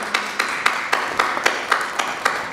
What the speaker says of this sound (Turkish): Alkışlarınızı alıyoruz.